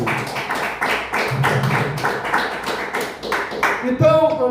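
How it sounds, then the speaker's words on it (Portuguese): Church congregation clapping in praise of Jesus during a service, a rhythmic run of fairly close claps over a murmur of voices, ending as a voice and tonal sounds come in. "As palmas que exaltam Jesus."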